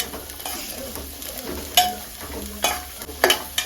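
Beans and chopped carrot frying in oil in a pan, a low crackling sizzle punctuated by several sharp spatula scrapes and clanks spaced unevenly, up close with no one speaking.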